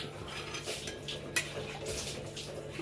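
A utensil stirs and mixes barnyard millet rice (bhagar) with other ingredients in a cooking pot, giving faint, scattered scrapes and soft clinks with one brief sharper knock partway through, all fairly quiet and without talk.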